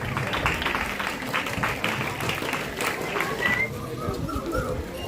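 Audience clapping at a school Independence Day celebration, a steady wash of applause with crowd murmur running through it, fairly close and even in loudness.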